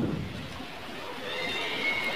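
A horse gives a single whinnying neigh, moderately loud and close, rising and wavering over a soft background.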